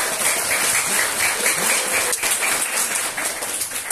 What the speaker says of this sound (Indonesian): Tepuk tangan untuk santri di Solo.